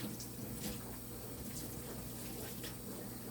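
Hands being washed under a running kitchen tap, a steady broadband water hiss with a low hum beneath it and faint splashes, no talk.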